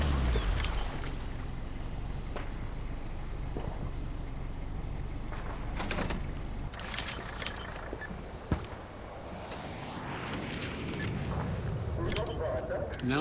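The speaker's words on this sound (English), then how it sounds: "Pull the boat up to the dock and switch the engine off." A boat pulls up to a dock in the Vietnam-era shooter game Hell Let Loose Vietnam. A low, droning engine carries on under scattered clunks and knocks, with a sharp thud midway and muffled voices in the background.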